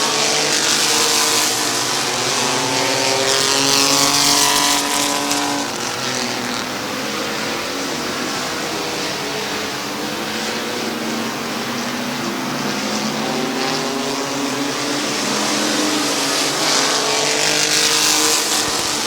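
Race cars roar around the oval at Midvale Speedway, a loud continuous wall of engine noise with several cars revving and droning close by throughout, rising and falling as the pack circles.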